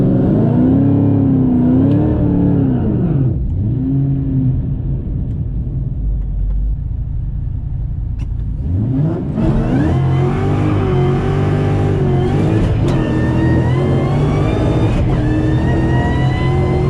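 A Ford Mustang GT500 on a no-prep drag strip revs up through rising and falling engine notes, then launches into a loud sustained roaring acceleration that climbs in pitch through the gears.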